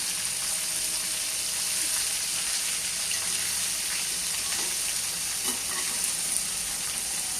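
Ivy gourd (tindora) fry being stirred in a pan: a steady, close hiss of sizzling oil with soft scraping strokes of the spoon running throughout, no voices.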